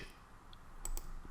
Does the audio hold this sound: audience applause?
no